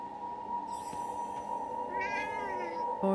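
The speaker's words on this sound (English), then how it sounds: "Hey, I think I heard a cat." A cat meows in the video game Forspoken, a few clear mews over a steady game-music drone, one of them drawn out and wavering.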